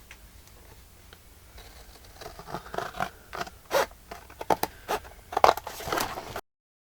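Scissors snip through paper tags in a quiet crafting space, a slow run of dry, crisp cuts and rustles that grows busier and sharper toward the end, close and fairly soft, with no voices.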